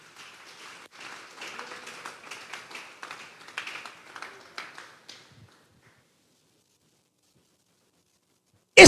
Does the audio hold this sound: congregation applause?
yes